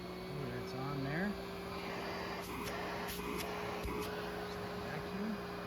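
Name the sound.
FruSun dog grooming kit vacuum running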